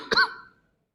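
A single short, sharp cough from a male preacher giving an Islamic study lecture, close and fairly loud, ending quickly in silence.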